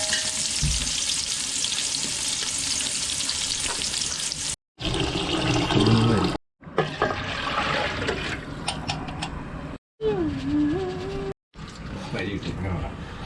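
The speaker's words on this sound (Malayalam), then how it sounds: "എണ്ണ ഒഴിച്ച് ഗ്രാമ്പൂ പട്ട ഏലക്ക ഇട്ടത് വെച്ച്" Whole cloves, cinnamon and cardamom frying in oil as the base for rice, a loud crackling sizzle broken by short pauses, with some clinks, stirring and running-water sounds. Voices talk over parts of it.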